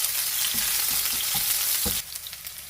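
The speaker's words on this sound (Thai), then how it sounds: "เป็นน้ำมันโอลิฟออยล์นะจ๊ะแล้วก็ใส่กระเทียมกับพริกสับลงไปผัดให้หอมก่อนนะ" Chopped garlic and chili sizzle loudly in hot olive oil, with a few soft stirring scrapes, then the frying quiets slightly near the end.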